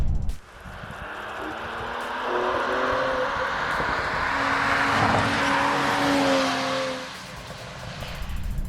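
A Mercedes-AMG E53 engine rises and falls in pitch as the car accelerates and shifts, loud and close with tire noise, for several seconds.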